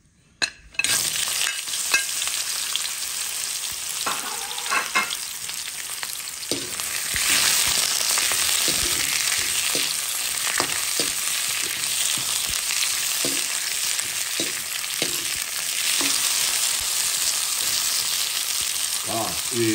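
Courgettes sautéing in a hot pan, with a loud, dense sizzle that swells after they go in and keeps up with scattered stirring scrapes and clicks for about twenty seconds.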